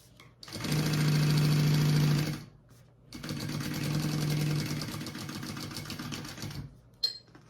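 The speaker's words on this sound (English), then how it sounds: "I am just going to baste this top raw edge closed" A sewing machine bastes the raw top edge of a fabric piece closed. Two runs of close, steady stitching are separated by a short pause, and the second run is longer and slightly quieter.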